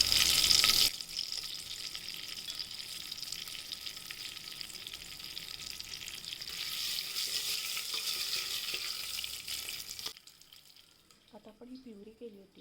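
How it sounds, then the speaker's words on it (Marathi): Mustard seeds and cumin frying in hot oil as a tempering for rajma masala. A loud, steady crackling hiss runs for about ten seconds, then cuts off abruptly, with a faint voice near the end. "त्यात तेल तापत ठेवते. मोहरी आणि जिरं टाकूया."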